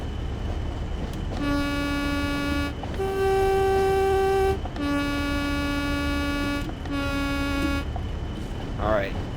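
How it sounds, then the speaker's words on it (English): A Class 40 diesel locomotive horn sounds in four long, steady blasts with changing tones over a constant engine rumble, loud and close, approaching a platform in fog. "I'll sound my horn when coming into the platform because it's foggy"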